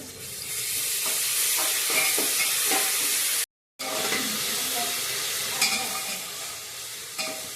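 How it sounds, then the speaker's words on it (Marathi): Green chili masala with ginger and garlic roasting in oil for spiced pea rice, a loud sizzling hiss with repeated stirring scrapes, interrupted by a brief silence midway. "मसाला केला होता आपण हिरव्या मिरचीचा ते भाजून घेऊया म्हणजे आपला कच्चापणा जाण्यासाठी तेलात चांगला भाजून घेऊ"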